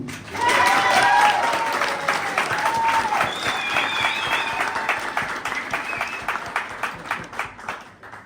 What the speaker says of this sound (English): Round of applause for Phoebe.